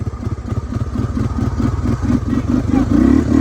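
A three-wheeler motorcycle engine accelerates in second gear, a loud, close, throbbing rumble whose pulses quicken and climb steadily in pitch as revs build.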